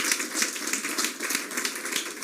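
A church congregation claps together in steady, dense applause, a sustained patter of many hands that pulses slightly, loud and close, with no voices over it.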